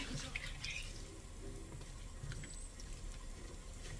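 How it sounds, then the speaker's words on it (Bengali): Water pours into a pot of beef curry with potatoes in a soft, continuous gurgling rush, close and fairly quiet, with a few faint splashes and no speech. "এখন আমি পানি দিয়ে দেবো একবারে।"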